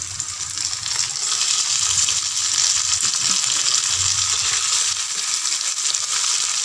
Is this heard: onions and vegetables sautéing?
yes